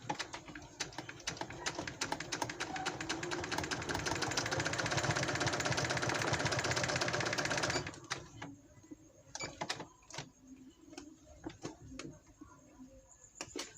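A Janome sewing machine stitching a piping pillow cover runs in a steady, fast mechanical whir for about eight seconds, then stops, leaving soft clicks and handling noises.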